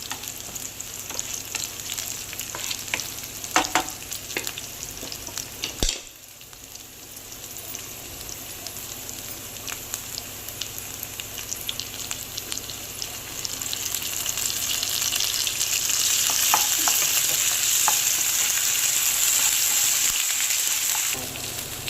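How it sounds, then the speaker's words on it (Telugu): Onion frying with ginger-garlic paste for mint rice, a steady close sizzle and hiss with occasional stirring scrapes, growing louder and denser toward the end. "కొంచెం ఆనియన్ వేసి కొంచెం అల్లం వెల్లిగడ్డ పేస్ట్ వేసి ఇలా కొంచెం ఫ్రై చేస్తున్నాము"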